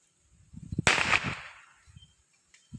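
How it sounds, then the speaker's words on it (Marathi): Firecrackers set off by children during Diwali festivities: a loud sharp bang followed by a crackling, fizzing burst that fades over about a second, with a few softer pops and faint thuds before and after. "बघा, मुलं फटाके पण फोडत आहेत."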